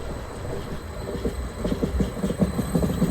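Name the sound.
class 74 passenger train passing Minnesund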